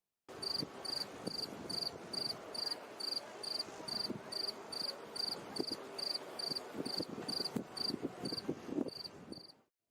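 A bush cricket chirps in a steady, even rhythm, about fifteen short bright pulses evenly spaced over several seconds, close and alone with faint background noise.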